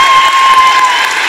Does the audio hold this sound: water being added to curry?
no